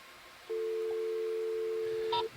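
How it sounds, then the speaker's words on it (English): Telephone dialing tone used to establish communications during a deep-sea dive at West Northampton Seamount Ridge, a single steady electronic tone held for nearly two seconds, followed by a brief higher blip, over faint background hiss. "We hear the dialing too. It's sort of necessary for them in order to establish the communications."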